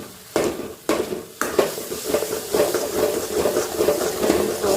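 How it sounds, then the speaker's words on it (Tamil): Garlic pickle bubbles in oil that has fully separated, the pan scraped with a spoon; three sharp scraping strokes open, then a dense, steady sizzle continues close up with no speech. "நல்லா கொதிச்சு வருது. எண்ணெய் ஃபுல்லாக பிரிஞ்சு வருது பாருங்கள்"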